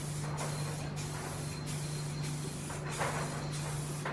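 Spray paint goes onto a BMW E36 spoiler in velvet blue as a run of faint, rhythmic hissing bursts about every half second, over a steady low hum from the surroundings.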